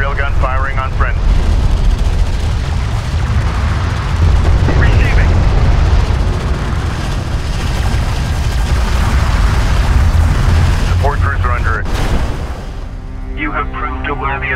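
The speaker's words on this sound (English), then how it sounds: "Enemy railgun firing on friendly." Enemy railgun fire in the video game Homeworld: Deserts of Kharak, heavy booming battle noise that runs loud and dense through the whole stretch, with voices heard over it.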